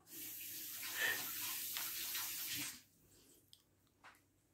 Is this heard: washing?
yes